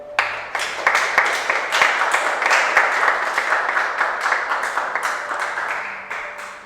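A congregation at a church sermon claps in a dense, loud burst of applause that holds for several seconds and then gradually thins out toward the end.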